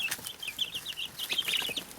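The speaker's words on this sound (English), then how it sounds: "So that's a happy chick sound. And the ducks, that's a happy duck sound." Week-old chicks and ducklings on an off-grid homestead peep and chirp continuously, with high, rapid, overlapping calls that are close and moderately loud and carry no talk.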